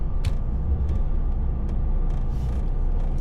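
Trucks crawling in road traffic make a steady, loud low rumble of idling engines, with occasional brief hisses and clanks rising over it and no one talking.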